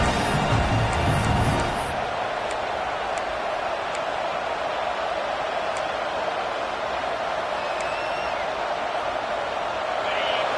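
A stadium crowd in the College Football 25 video game roars steadily during a break in play, a broad continuous wash of cheering with faint ticking sounds scattered over it.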